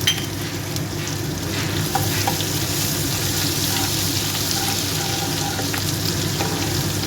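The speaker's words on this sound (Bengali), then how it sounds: "আদাটা একটুখানি ভাজা হয়ে গেলে" Grated ginger sizzles steadily in hot oil in a pan, a continuous close frying crackle with faint stirring clicks, no voices.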